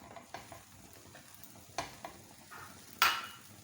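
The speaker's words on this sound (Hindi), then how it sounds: "ये पहले मैं फ्राई अंडे के साथ ब्रेड गर्म कर रही हूँ।" Bread with egg warming on a ghee-greased tawa, giving a soft, steady sizzle broken by a few light scrapes and taps of a utensil, with a louder clack near the end.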